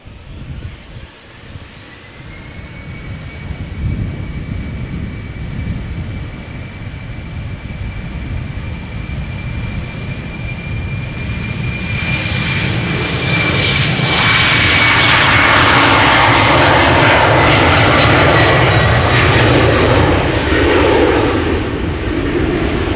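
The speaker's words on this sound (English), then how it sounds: "This is KLM flight 1419 going to Nantes, Embraer 190, 8 years old," A KLM Embraer 190 jet departing Amsterdam Schiphol Airport: loud, close engine roar that swells steadily into a broad, powerful rumble with a high whine as the aircraft takes off.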